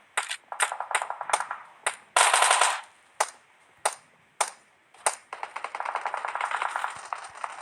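Gunfire in the PUBG Mobile video game: single sharp shots and short bursts cracking out at irregular intervals, followed by a longer sustained stretch of rapid automatic fire, loud and close.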